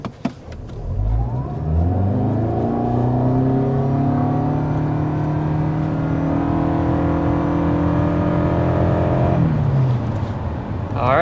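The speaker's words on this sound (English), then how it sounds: "we're going to start things off with a hard acceleration" 2023 Toyota Camry Hybrid under hard acceleration, its engine note rising steadily in pitch and holding loud for several seconds before easing off.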